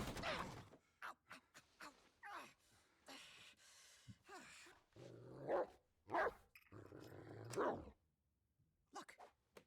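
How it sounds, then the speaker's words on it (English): A dog barks in a tabletop fantasy game's barking-dog trap, with several sharp, separate bursts spread across the stretch, fairly close and moderately loud, broken by short pauses and faint breathy sounds. "Barking dog trap. Classic."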